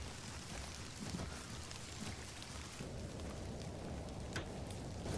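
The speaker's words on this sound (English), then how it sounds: "It would seem you don't find the rain quite as romantic as I do." Steady rain falls in a folk horror adventure game, a dense, even wash of patter with scattered soft drops, fairly faint and continuous, without talk.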